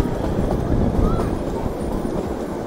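A toy train on a hill railway rumbles along continuously and loudly, its carriages rattling, with voices faintly mixed into the noise.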